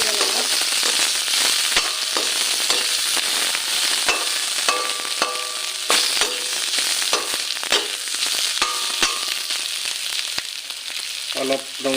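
Chopped onions sizzling in hot oil in a pan for a home-cooked chicken dish, a dense steady crackle with sharp pops and occasional clinks of a stirring spoon, no talking.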